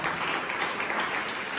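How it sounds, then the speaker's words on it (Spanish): Church congregation applauding during a Spanish-language sermon: a dense, steady wash of clapping that fills the whole short stretch without letting up, with no clear talk over it. "Déjate el aplauso fuerte para el Señor."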